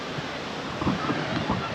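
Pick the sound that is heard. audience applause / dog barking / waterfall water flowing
waterfall water flowing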